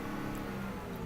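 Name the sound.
2016 Ford F150 truck engine revving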